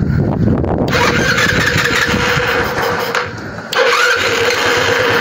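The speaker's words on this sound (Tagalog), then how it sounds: "makita nyo po na umaandar na po yung motor. So start natin." A 125cc scooter engine cranks with a rough burst and then settles into a steady close mid-pitched idle, dipping briefly before it picks up again. Nobody speaks.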